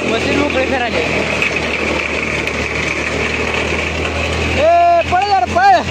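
An idling silage-chopping machine used for maize fodder rumbles steadily in the background under continuous nearby talk, and voices call out near the end.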